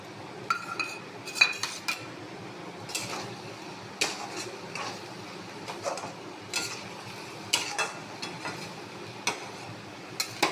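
A metal spoon scrapes and clinks against a cooking pan as onion paste is stirred in with ginger for a chicken masala curry, light rhythmic taps and scrapes over a faint sizzle.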